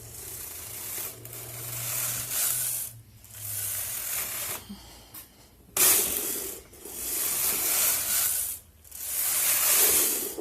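Brother CH1500 knitting machine carriage sliding back and forth across the needle bed, a steady mechanical ratcheting rush in repeated passes with brief pauses between strokes, close and fairly loud with no talking.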